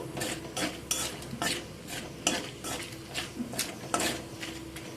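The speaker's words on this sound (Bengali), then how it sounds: "ফোড়নটা আমার এখানে ভালো করে ভাজা হয়ে গেছে" Whole cumin seeds and a bay leaf tempering in hot oil in a pan, stirred with a spatula in quick repeated scrapes and clinks over a soft sizzle.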